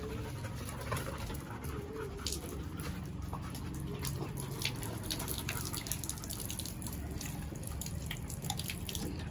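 Rapid wet lapping sounds as a dog drinks water nearby, a continuous quick rhythm of small splashes and drips with faint panting.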